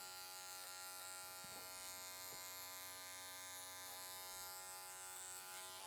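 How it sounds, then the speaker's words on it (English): An electric hair clipper buzzes steadily and close up throughout while cutting a tight fade during a barbershop haircut, with no talking. "Kind of allows my clipper to really get in there and do what it needs to do."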